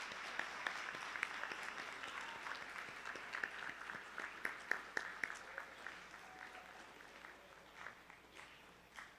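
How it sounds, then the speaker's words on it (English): A small audience at a school awards evening claps for middle and high school student speeches: faint, scattered hand claps spread sparsely across the whole stretch, sounding distant and thin. "Can you give them all another round of"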